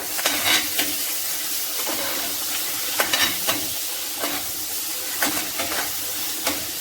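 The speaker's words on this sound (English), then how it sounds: "A spoonful of garlic. Okay, I'll mix that up." Garlic frying in a pan for a seafood dish, a continuous bright sizzle with irregular spoon scrapes and stirring clatters throughout, close and without speech.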